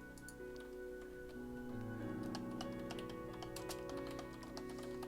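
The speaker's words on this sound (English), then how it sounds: "I want to type something in chat now." Faint, irregular taps of a computer keyboard being typed on, small clustered clicks sitting over a steady sustained musical drone in the background.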